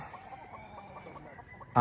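Soft, repeated clucking from nearby chickens, a quick irregular series of short calls, ends in a sudden loud burst of noise.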